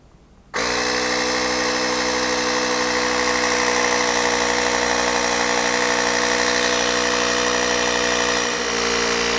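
A portable cordless electric AmazeFan air pump switches on abruptly and then runs with a loud, steady, buzzing motor drone close to the listener, with a slight dip near the end.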